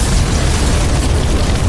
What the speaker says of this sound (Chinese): 爆炸声此起彼伏，